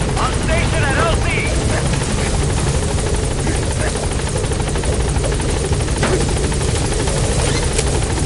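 The Pequod helicopter in a video game arrives at a landing zone, its steady rotor thrum and engine whine loud and continuous throughout, with faint game sounds over it.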